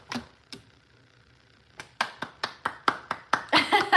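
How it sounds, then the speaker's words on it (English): Sharp hand claps ring out, a couple of isolated ones at first, then a quicker run of loud claps that builds into a short burst of applause toward the end. "A round of applause for the Virgo collective."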